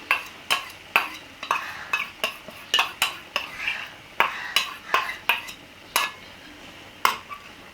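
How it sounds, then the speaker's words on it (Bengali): A spoon stirs milk into a bottle gourd curry in a cooking pot, giving a string of sharp metallic scrapes and knocks in an uneven rhythm, close and clear with no talking. "দুধটা অ্যাড করে দেওয়ার পর এটাকে ভালো করে নাড়াচাড়া করে"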